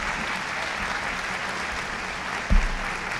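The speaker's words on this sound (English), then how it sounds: "she's applauding for me to get off the stage" Sustained audience applause at the end of a talk at a skeptics' conference, a dense steady wash of many hands clapping at even loudness, with a brief thump partway through.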